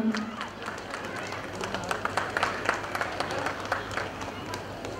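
Audience clapping at a Bathukamma festival stage event, a steady wash of many hands with scattered sharper claps, fairly loud and continuous throughout.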